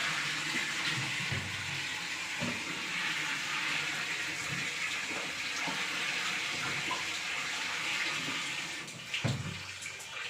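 Water runs steadily from a tap into small mugs, a continuous rushing splash with a few knocks and clunks along the way.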